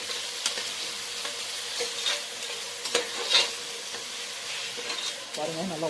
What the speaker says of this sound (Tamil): 2 தக்காளியும் போட்டு நல்லா வதக்கி விடணும்